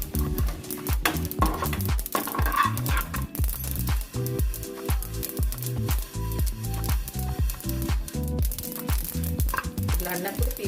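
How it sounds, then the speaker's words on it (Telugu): A spoonful of sesame seeds dry-roasting in a pan, crackling and popping rapidly and busily, with a loud, continuous clatter close by and no voices. "నువ్వులు సపరేట్గా వేయించుకోవాలండి, ఎందుకంటే అవి ఎగురుతాయి"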